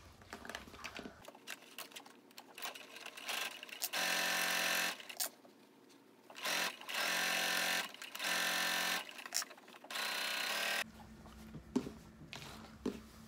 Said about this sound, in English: So I'm going to sew only the two sides.